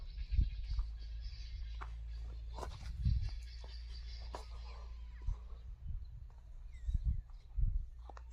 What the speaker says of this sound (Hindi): दोस्तों हमारे चकोर बहुत ही ज़्यादा आवाज़ें कर रहे हैं